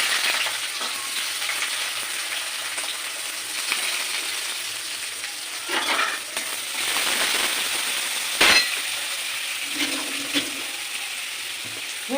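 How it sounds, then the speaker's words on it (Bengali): Onions fry in a pan of hot oil that has been tempered with cinnamon, green cardamom and mace, producing a steady sizzle with occasional clinks and scrapes of a utensil, and no voices. "ফোড়নটা হয়ে গেছে, এবার পেঁয়াজগুলো ছাড়িয়ে"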